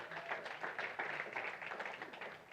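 Audience applause at an APSS convention, a dense steady patter of many hands clapping at once, fairly loud and even throughout with no voices over it.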